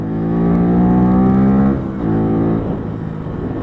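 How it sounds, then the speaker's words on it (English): A Bullit Hero 50cc motorbike revs hard through its gears, a loud, close buzzing engine note that climbs, drops briefly at a shift, climbs again and eases off, with no talk. "Obviously you have to rev the hell out of it to get to the next gear."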